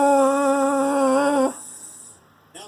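A weed eater, or string trimmer, is imitated by a voice as a steady, close buzzing drone with slight wobble that holds for about a second and a half before cutting off abruptly.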